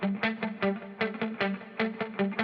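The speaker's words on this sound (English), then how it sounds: "There's a rhythm guitar, which sounds like this." Short choppy strums from an electric rhythm guitar run through a heavy chain of effect plugins, with distortion and chorus shaping each hit. About a dozen bright, clipped chords fall in a syncopated pattern, close and solo.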